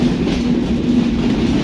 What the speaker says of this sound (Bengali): চিত্রা এক্সপ্রেস ট্রেনটি দর্শনা হল্ট স্টেশনে প্রবেশ করলো